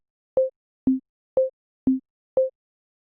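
A simple ChucK synthesizer loop sends an oscillator through an envelope, giving five evenly spaced short electronic tones that alternate between two pitches, each with a sharp attack and quick decay, separated by silence.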